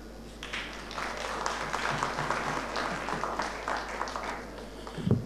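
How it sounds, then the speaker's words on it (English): Conference audience in Manchester, Mandeville, clapping through a steady, moderate round of applause that holds level for several seconds, with a louder burst near the end. "A bigger round of applause."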